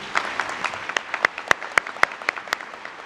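A commencement audience at SUNY WCC applauds the valedictorian, a dense patter of claps with a few louder nearby hand claps standing out.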